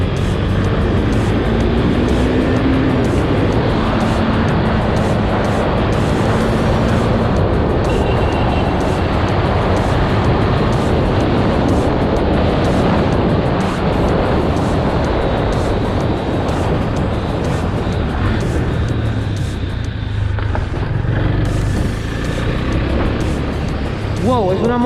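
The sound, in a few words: Husqvarna Svartpilen 401 motorcycle accelerating on a straight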